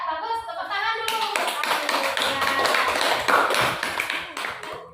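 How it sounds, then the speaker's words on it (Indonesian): Classroom of children clapping together on cue from their teacher, a quick burst of dense, rapid hand claps starting after a brief voice, sustained at close range and fairly loud for several seconds. "Tepuk tangan dulu."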